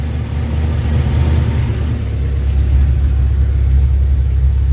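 The Truckstang's engine and drive shaft run in forward gear, giving a loud, steady low rumble that holds nearly constant throughout.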